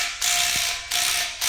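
Ratchet tightening a fitting on a welder cart holding a gas cylinder, two long loud clicking ratchet strokes separated by a brief pause, close and alone.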